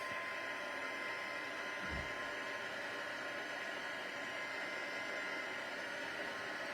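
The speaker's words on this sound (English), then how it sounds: "let's grab our heat tool. We'll heat this up really quick." Heat tool blowing hot air onto embossing powder on a card, a steady faint whooshing hum running continuously with a small bump near the start, alone without talking.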